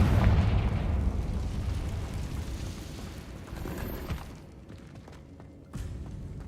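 A Confringo spell explodes in Hogwarts Legacy with a loud rumbling boom that decays slowly into a fading rumble, followed by a smaller thump near the end.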